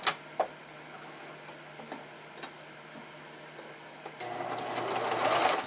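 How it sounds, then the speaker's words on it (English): Sewing machine top stitching elastic on hipster panties, a few faint clicks and taps before the motor starts with a close, steady, rising whir near the end, no talk. "I'm going to top stitch the elastic down."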